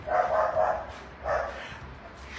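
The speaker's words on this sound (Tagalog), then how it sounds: "may aso" A dog barks a few times at a distance, short muffled yaps in two bursts, fairly faint over a quiet background.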